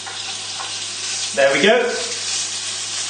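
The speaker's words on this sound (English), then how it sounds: "we're going to add in the bacon. And hopefully this will be nice and loud and sizzly." Bacon sizzling in hot oil in a frying pan, a steady hiss that swells briefly as it is stirred, with a short spoken remark over it.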